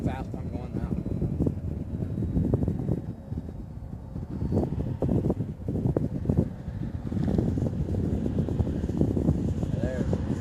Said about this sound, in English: There's fucking wind up there, boy. Pushing me every which way but straight.